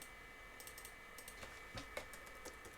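Keys tapped on a computer keyboard in an irregular burst of quiet clicks, close by, with no voices over them.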